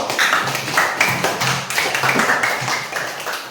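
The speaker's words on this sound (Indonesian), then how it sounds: "Tepuk tangan dulu." A class of students claps their hands together in a brief round of applause, a dense patter of many hands filling the room at close range with no talking over it.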